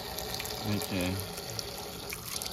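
An old, abandoned outdoor water fountain runs with a steady, close rushing stream, and a voice speaks briefly over it.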